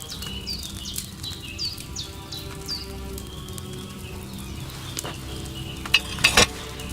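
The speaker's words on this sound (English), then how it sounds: "Hear that bubbling? It's boiling." A cauldron of wine bubbles over a fire in Kingdom Come: Deliverance II, a soft continuous simmer and crackle with scattered pops and a brief louder burst near the end, no voices.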